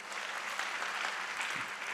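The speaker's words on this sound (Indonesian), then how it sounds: "Coba tepuk tangan bagi Tuhan." A church congregation applauds during a sermon, a dense, steady wash of many hands clapping at once, sustained and fairly loud with no talking over it.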